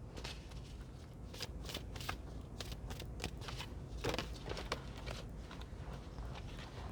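Deck of tarot cards being shuffled, a run of quick riffling bursts and soft slaps in an uneven rhythm, close and clear with no speech.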